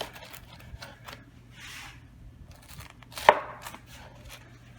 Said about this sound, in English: I just use a knife. This thing is so crispy you can just cut right through it.